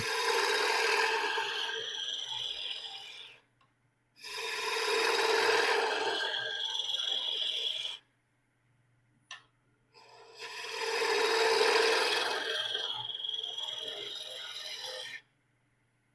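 A wooden spindle being roughed down on a lathe produces three long passes of harsh, rasping scraping, each lasting a few seconds and separated by brief silences, close and loud.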